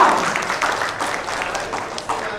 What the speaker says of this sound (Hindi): जोर से तालियां उड़ीसा के लिए